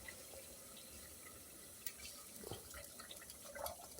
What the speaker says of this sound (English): after we rinse out the blender